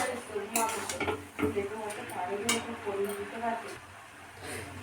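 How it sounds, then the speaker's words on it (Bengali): Cooked vegetarian food stirred in a pot, a spoon scraping and clinking against the metal in irregular strokes, with a voice talking throughout. "তো এইভাবে নেড়ে চেড়ে এটাকে ভালো করে করে নিতে হবে।"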